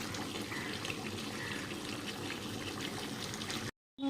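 Water added to chicken with capsicum cooking in a pan gives a steady, close bubbling and sizzling hiss that runs unbroken before cutting off abruptly near the end.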